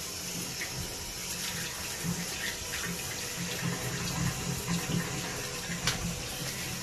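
A shower head sprays water steadily onto a tiled shower wall, a continuous hiss and patter heard close and alone throughout.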